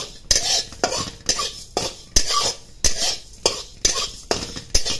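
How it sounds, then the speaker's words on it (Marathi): Moong dal dry-roasted in a pan and stirred, with repeated scraping sweeps of a spatula and sharp metallic knocks against the pan in a steady rhythm, close by and with no talking. "भाजल्यानंतर मग आता मी टाकते मुगाची डाळ"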